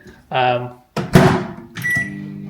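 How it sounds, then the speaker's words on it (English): A microwave oven hums while warming up coffee, with a short running drone, a thunk, then the hum again close by and alone. "I'm having a second coffee right now, warming it up in the microwave"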